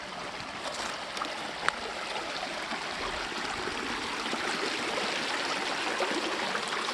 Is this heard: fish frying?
no